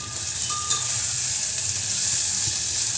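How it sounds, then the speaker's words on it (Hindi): Cinnamon and bay leaves fry in hot ghee and oil, giving a steady, close, hissing sizzle that carries on without pause and with no talking. "ये घी में ऑयल में थोड़ी ये भुनेगी ना तो उसकी खुशबू अच्छी आएगी"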